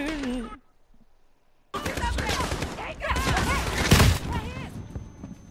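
Gunfire rattles out in bursts during a Call of Duty Modern Warfare firefight, mixed with loud excited talk over it and one heavier thump near the end, after a short quiet gap early on.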